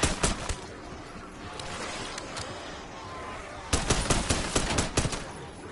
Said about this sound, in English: It's time to actually shoot.